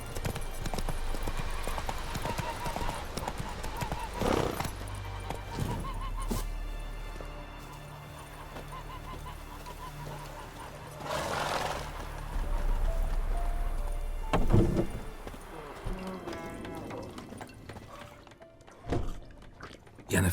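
Roach the horse gallops with steady clip-clop hoofbeats in The Witcher 3, loud and continuous across the scene under game ambience, with voices heard partway through.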